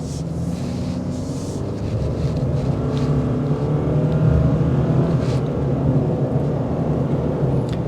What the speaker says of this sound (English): And check out what this Lineartronic CVT does.